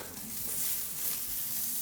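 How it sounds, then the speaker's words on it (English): A steak sears in a hot pan with a steady, close crackling sizzle that stays bright and even throughout, with small pops and no voices. "I'm just going to get that beautiful sizzle bubble going on my steak, build up a crust while going at it"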